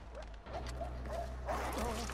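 Dogs in the video game Far Cry 4 give a series of short yips and barks, several in a row at moderate distance over a low steady rumble.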